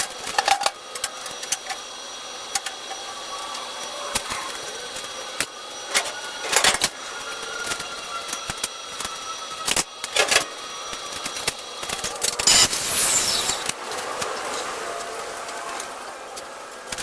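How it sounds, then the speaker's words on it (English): A ratchet strap is tightened in a fabrication shop, giving a run of sharp ratcheting clicks and clacks, some in rapid clusters, against a hissy background with no talk. "Let's get the ratchet strap out and see how it looks."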